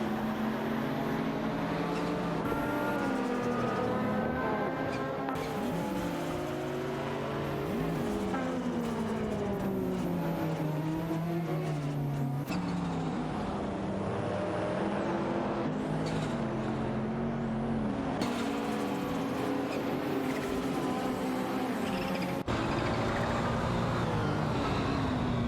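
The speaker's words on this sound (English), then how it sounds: "there's an ongoing battle for 13 between Koki Binanity and Issy 12-12, with both cars closely matched as they jockey for position." Race cars in an AI-driven video game race, two closely matched cars battling for position, their engines droning steadily and loudly with rising and falling pitch sweeps as they shift and jockey throughout.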